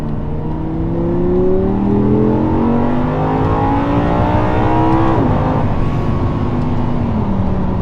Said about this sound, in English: I can't accelerate too much because I'll be breaking the speed limit very quickly.